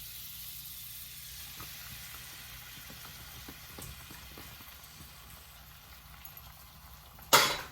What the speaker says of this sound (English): we're just going to pour these eggs in.